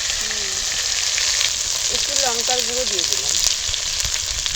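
Mustard oil sizzles in a kadai as a paste of ginger, green chilli and turmeric fries while being stirred, a constant loud crackle with a voice briefly heard over it.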